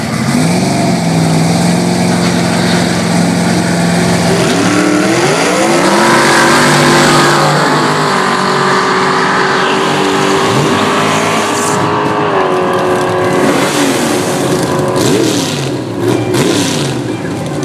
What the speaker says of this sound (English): So Gauman, the slower Mustang, will launch earlier